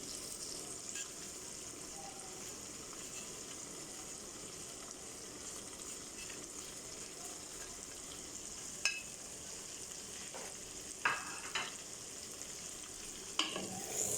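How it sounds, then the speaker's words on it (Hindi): Ground spices (red chilli, dried coriander, cumin powder and turmeric) fry gently in a pan for methi gosht, a faint steady sizzle broken by a few sharp spoon clicks near the end. "इसको ज़्यादा भूनने की ज़रूरत नहीं है, बस थोड़ा सा भूनें"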